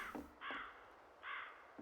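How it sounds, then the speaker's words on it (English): Crows caw in the Garry's Mod town map, two harsh, drawn-out calls a short way apart, carrying faintly over a quiet background with no voices. "I gotta say, I love the sound of crows."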